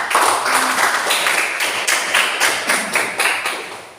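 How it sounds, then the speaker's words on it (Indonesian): A small group claps for a student named Syifa during a madrasah funeral-prayer practice, a short burst of close, fairly loud applause that fades toward the end. "Kita berikan aplaus untuk saudari Syifa"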